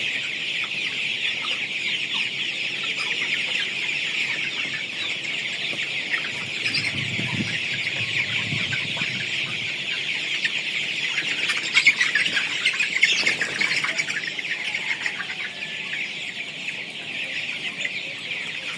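A dense, constant chorus of many chicks cheeping and clucking together, steady and close for the whole stretch.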